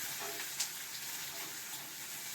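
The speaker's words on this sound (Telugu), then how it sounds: "నీళ్ళు పోయాలి" Water pours into a cooking pot of fried green chillies and tomatoes for a mushroom curry, a quiet, steady splashing hiss that runs continuously with no talk.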